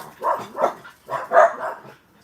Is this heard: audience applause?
no